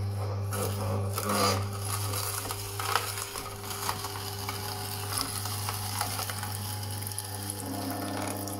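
Watermelon is pressed through an electric juicer with a constant motor hum, under wet crushing and squelching of the fruit, close and steady throughout.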